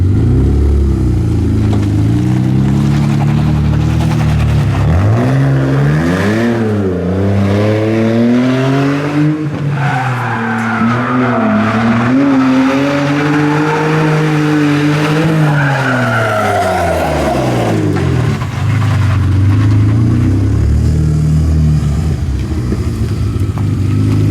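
A budget BMW E46 drift car fitted with an eBay angle kit, its engine revving up and down in long sweeps while tires squeal and skid, loud and close throughout.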